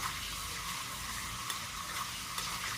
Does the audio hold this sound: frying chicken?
yes